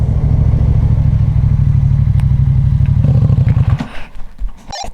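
A motorcycle engine chugging loudly up close with a rapid pulsing rhythm, then easing off with rattles and clatter as it bumps along a rough road near Campiglia Marittima, Italy.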